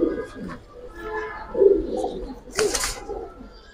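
A blue bar male pigeon cooing, a few low throaty coos close by, with other birds and faint voices in the background.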